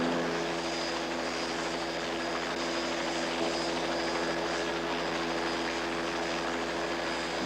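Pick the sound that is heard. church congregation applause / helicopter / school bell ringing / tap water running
helicopter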